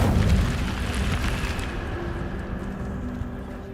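Incendio fire spell cast in Hogwarts Legacy, a loud whooshing burst of flame that rumbles and crackles, then slowly fades into a softer burning hiss.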